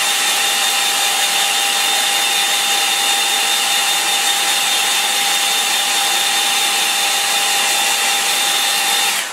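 Hair dryer blowing hot air over a line and wash painting of a Suffolk farm, a loud, steady whine with a constant hum, held for the whole clip before switching off at the end.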